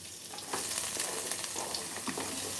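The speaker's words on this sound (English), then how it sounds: "Do you guys hear that sizzle?" Steady oily sizzling of seasonings frying in a hot pot for Jamaican-style steamed callaloo, continuous crackle with faint stirring scrapes, close and fairly loud, no voices.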